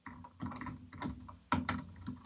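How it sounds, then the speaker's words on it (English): Close-up typing on a computer keyboard, irregular bursts of key clicks with brief pauses between them, no voices. "Keyboard typing, music to my ears."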